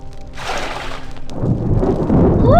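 In a survival crafting video game, a sudden storm brings a deep rolling rumble of thunder that swells into a steady wash of heavy rain, loud and close, with no talking.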